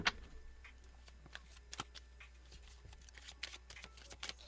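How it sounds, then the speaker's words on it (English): A tarot card deck is shuffled close up and quietly, with soft irregular papery riffles and light taps against a faint steady hum. "let's go ahead and shuffle"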